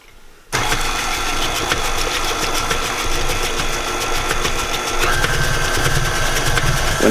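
An electric hand mixer runs steadily, blending eggs and orange extract into sugar cookie dough, starting abruptly after a brief quiet moment and holding a loud, continuous motor whir with a slight shift in tone near the end.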